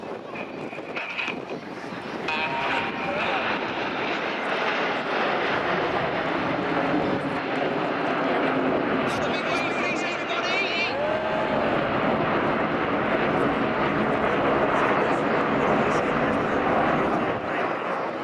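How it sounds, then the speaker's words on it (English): Nine Red Arrows jets fly a smoking diamond roll over an air show at Portrush, a long, loud, continuous jet roar heard from the ground with wind buffeting the microphone and a commentator talking over it. "all 9 jets will now smoke in the diamond roll"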